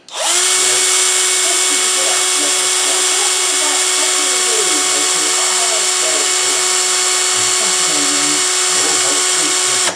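A 1.5mm drill bit boring into a die-cast Dinky toy during restoration, a loud steady high-pitched motor whine held continuously and close up, with no talk.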